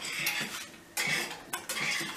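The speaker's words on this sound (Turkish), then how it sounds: "Şimdi bunu bir güzel karıştırıyorum." Sugar being stirred into a pot of squash and milk dessert, a spoon scraping and clinking against the metal in three close bursts with brief pauses between them, no talking.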